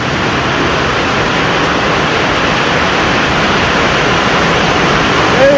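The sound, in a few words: heavy rain pouring on metal roof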